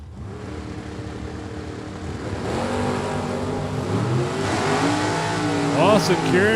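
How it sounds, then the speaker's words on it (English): An Oldsmobile and a Ford Mustang drag race at a super pro event, engines revving and rising in pitch as they launch down the strip, heard under an announcer's commentary. "Oldsmobile chasing the Ford"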